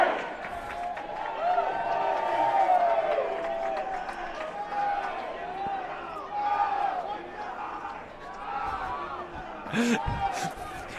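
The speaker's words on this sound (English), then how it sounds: "Go Bears chant" Rowdy Cal Bears home crowd chanting and cheering in the stands at a college lacrosse game against Chapman at Memorial Stadium, a steady roar of many voices with rising shouts, continuous and fairly distant, with a commentator talking over it.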